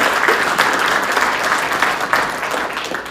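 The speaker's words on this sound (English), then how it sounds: "So please give me a round of applause for everybody." Audience applause at a military assumption of responsibility ceremony: a dense, continuous round of clapping from a sizeable crowd that holds at a fairly loud, even level throughout.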